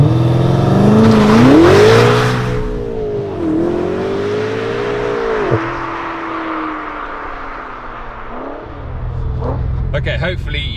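A BMW M8 Competition Gran Coupe tuned to 720 bhp by AC Schnitzer accelerates hard on damp tarmac with wheel spin. The engine note climbs loud and close through rising, dropping gear changes, then fades as the car pulls away.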